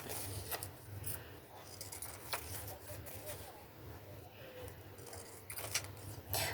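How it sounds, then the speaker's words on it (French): Pinking shears snip through a fabric label in a few crisp, separate cuts, close and fairly quiet against a soft background hiss. "Je vais prendre mes ciseaux cranteurs de couture. Je vais couper."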